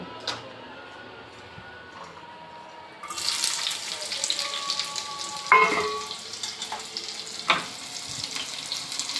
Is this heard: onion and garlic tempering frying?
yes